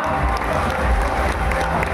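Audience at a ceremony at Narada Gana Saba claps steadily after a shawl and memento are presented, a dense, continuous round of applause mixed with some crowd noise throughout.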